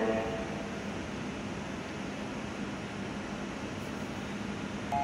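Polish freight train hauled by locomotive 07-376 rolls in as a steady, continuous rumble with broadband rail noise holding level throughout, fairly close.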